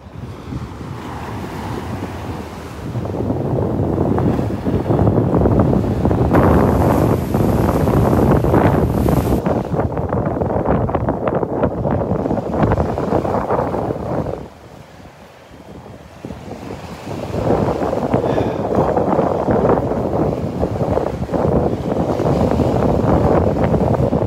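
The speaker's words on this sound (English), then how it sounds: "Very invigorating wind, to say the least." Strong wind blasts the microphone on Delnor-Wiggins beach, a loud, steady roar mixed with surf washing in, briefly dropping in the middle before surging back up.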